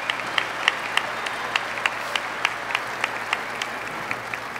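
Arena audience applauding Stanley Cup champion Edmonton Oilers goaltenders Grant Fuhr and Andy Moog at a 1985 team reunion, a steady wash of clapping with sharp individual claps standing out, moderately distant and sustained throughout.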